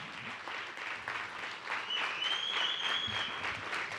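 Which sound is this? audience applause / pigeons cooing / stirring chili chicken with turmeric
audience applause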